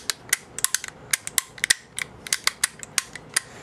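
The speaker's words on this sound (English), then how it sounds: "Push against it, put it back to safe, make sure again everything works" An H&K SEF semi-auto trigger pack being function-checked, its selector and trigger mechanism giving a rapid run of about twenty sharp, close metallic clicks and snaps in quick irregular bursts, with no talk.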